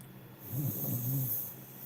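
Snoring, two slow rumbling breaths in a row, faint and alone with no talk.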